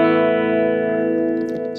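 Electric guitar through a Line 6 digital delay pedal with the repeats turned up: a sustained, loud chord rings on and on as echoes stack, with small scratchy pick or string noises near the end.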